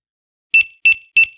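Kitchen timer going off as rice rests in a lidded pot on a stovetop: three short, bright electronic beeps in an even rhythm, close and clear against silence.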